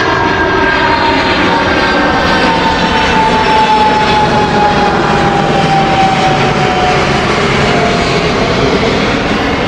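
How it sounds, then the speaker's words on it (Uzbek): A fixed-wing airplane passes overhead, its steady engine roar filling the whole stretch, loud and continuous with a slowly falling whine as it moves across. "Samolyotni o'tkazib oldik."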